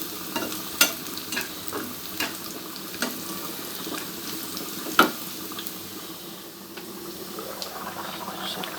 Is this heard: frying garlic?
yes